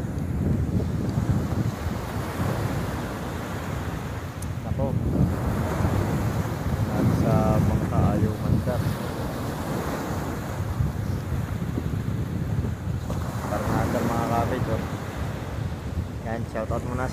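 Waves wash and slap around a boat at sea while wind buffets the microphone, rising and falling in surges throughout.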